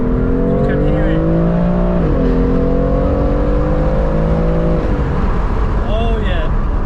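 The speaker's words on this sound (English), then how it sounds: "This exhaust, listen to it." A BMW M4 F82's exhaust drones loudly as the engine holds and shifts pitch, a deep continuous roar close by.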